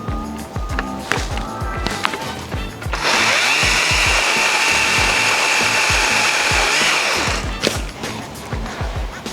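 A Makita DUA301 36V cordless telescopic pole saw cuts a tree branch: a loud, steady motor buzz holds for about four seconds, framed by clattering knocks and handling noises before and after.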